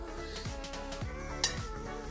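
Baby potatoes stirred with olive oil in a bowl, with a utensil scraping and clinking against the sides in a few quick strokes and one sharper clink near the end.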